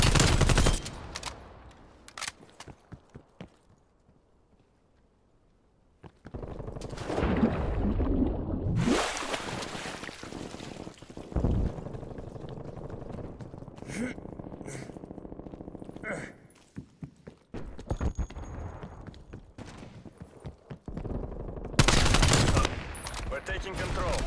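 Automatic gunfire from a sentry turret in the Call of Duty Black Ops Cold War Hardpoint mode, with bursts of rapid shots scattered through a busy firefight and an announcer-style voice heard at times.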